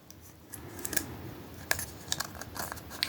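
Beading wire is snipped with scissors at close range in a quiet room, giving several faint, sharp clicks spread unevenly over a few seconds.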